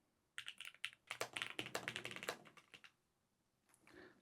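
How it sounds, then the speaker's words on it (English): Rapid typing on a Lofree Flow Lite computer keyboard, a dense run of crisp key clicks and clacks close to the microphone, trailing off into a few final taps. "Now the typing speed test, see what we get on the first go."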